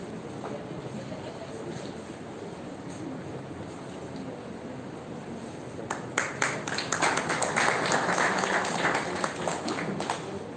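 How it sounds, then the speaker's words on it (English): Audience applause at a school Republic Day celebration at St. Jude's High School, Betalbatim: after a stretch of low background murmur, clapping swells in from a crowd and continues steadily to the end. "I request the audience to give a round of applause."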